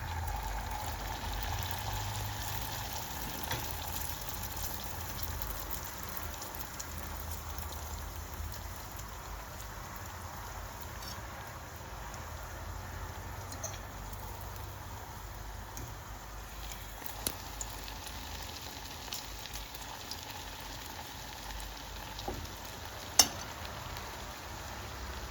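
Pirozhki frying in oil at home, giving a steady, soft, continuous sizzle and crackle with a few small pops, faint and constant throughout with no talking.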